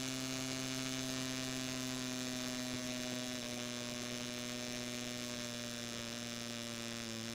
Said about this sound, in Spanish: puede que se encuentren con un ruido no mecánico proveniente del motor